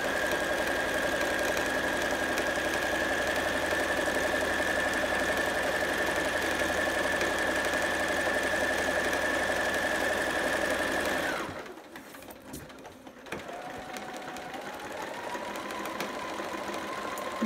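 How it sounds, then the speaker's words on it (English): A sewing machine runs a long straight stitch down the first seam of a casing for a Harper sitter romper, a steady close whir for about eleven seconds before stopping, followed by quieter handling sounds and a faint tone. "I'm just going to sew all the way down"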